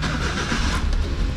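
Suzuki Every DA64W mini 4x4 engine starting cold and settling into a steady, rough idle, close and continuous with no talk.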